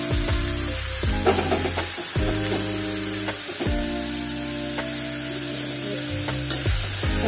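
Putu mushrooms dry-roasting in a pan, with a continuous close crackle and sizzle, occasional stirring scrapes and soft music underneath.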